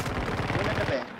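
Rapid automatic gunfire in a video game played with a G Wolves HSK Pro Ace mouse, a dense burst of close, loud shots rattling in quick succession and then stopping abruptly.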